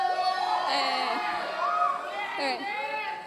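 A youth crowd at a student ministry gathering cheers and whoops, a lively mix of shouting voices filling the room, while a speaker talks over them briefly.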